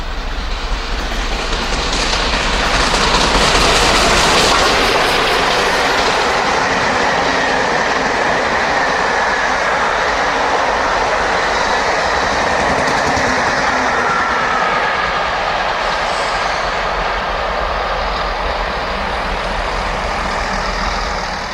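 British steam locomotive Sir Nigel races through Pangbourne in December with a London to Bristol express, making a loud, sustained roar of wheels and carriages with rhythmic rail clatter that swells and then holds steady as the train passes close by.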